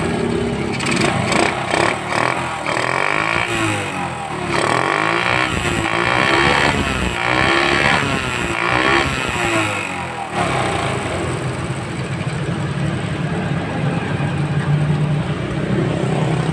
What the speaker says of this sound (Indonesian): sekarang akan saya hidupkan motornya